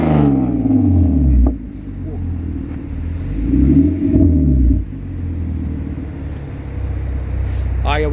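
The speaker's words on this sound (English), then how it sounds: "rev that shit" A tuned Hyundai Genesis Coupe engine rumbles at close range with a steady, loud idle, swelling in a couple of brief rev surges before settling back down.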